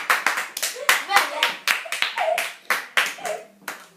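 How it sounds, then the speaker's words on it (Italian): A few people clap in a quick, uneven rhythm close by, sharp individual claps, with faint voices mixed in beneath them. "Un applauso!"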